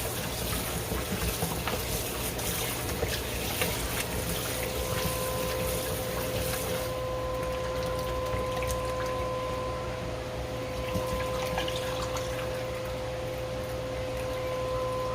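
Tap water runs steadily in a kitchen sink while raw BBQ ribs are rinsed, making a continuous hiss with a faint tonal hum underneath. It softens slightly partway through, and no one speaks.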